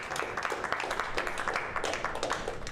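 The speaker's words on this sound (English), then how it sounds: "You guys want to give him a round of applause for serving y'all tonight?" Audience applause at an evening Bitcoin builders club meetup, a dense steady wash of many hands clapping for the caterer, moderately loud and continuous throughout with no talk over it.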